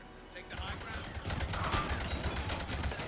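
Rapid gunfire in the Warhammer 40K video game breaks out after a short quiet lead-in, then continues as dense, overlapping bursts at moderate loudness to the end.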